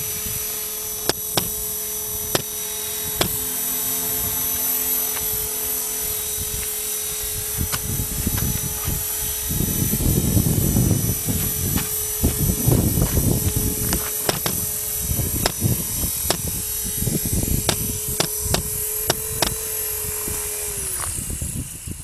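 A Blade 450 RC helicopter with a GPS flight controller descends and lands automatically, its rotor and motor whine droning steadily and close throughout, with thumping and clicks near touchdown.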